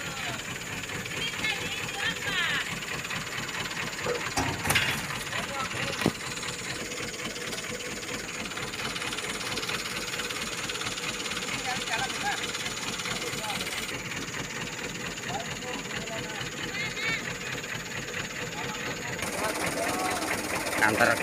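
A Colt Diesel truck engine runs steadily through the whole stretch while palm fruit is loaded, a continuous mid-pitched rumble with a few knocks and thuds on top and voices talking now and then.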